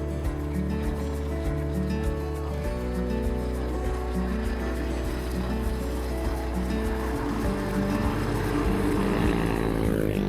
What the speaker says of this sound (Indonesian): Anginnya rasanya kok kayak kenceng banget teman-teman, nabrak mukaku ini.